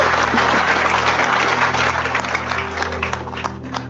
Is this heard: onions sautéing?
no